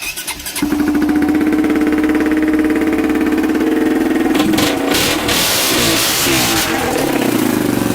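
A KTM four-stroke motorcycle engine, choke just closed, catches and runs, then is revved hard, loud and close, with a steady buzzy idle giving way to rising throttle blips toward the end.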